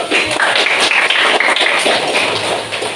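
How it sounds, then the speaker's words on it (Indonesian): Students in a classroom give a round of clapping, a dense, continuous patter of many hands close by, steady throughout with no talking. "Oke, silahkan duduk, tepuk tangan dulu."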